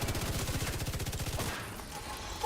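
Rapid automatic gunfire from a firearm in the shooter game The Division 2, a fast rattling burst of shots lasting over a second and then cutting off into quieter game ambience.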